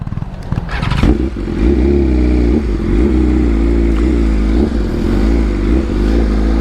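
A sport motorcycle, a BMW S1000RR or Yamaha R15, runs loud and close while doing a wheelie, with a rough revving burst at the start settling into a sustained, throbbing engine drone.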